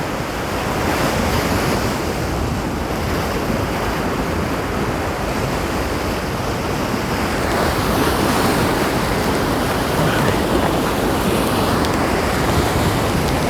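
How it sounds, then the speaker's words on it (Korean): Heavy surf crashes and roars continuously against a rocky shore in Gijang, Busan, with wind buffeting the microphone throughout. "너울이 너무 심해서 던질 만한 데가 없어요."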